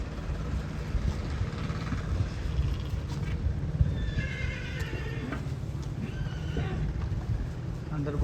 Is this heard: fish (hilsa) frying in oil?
no